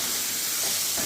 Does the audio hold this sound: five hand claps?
no